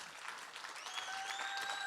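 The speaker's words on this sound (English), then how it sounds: "Let's have a round of applause for our 10-year Zabbix trainers." Audience applause at the Zabbix Summit 2022 conference: steady clapping from a large crowd, sustained throughout, with a few faint whistles rising in the latter half.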